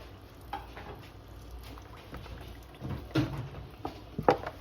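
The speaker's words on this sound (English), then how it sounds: "Okay, keep stirring. Let it get real moist." A spoon stirs a moist mixture in a bowl, making soft intermittent scrapes that grow into louder, quicker knocks and swishes near the end; no one speaks.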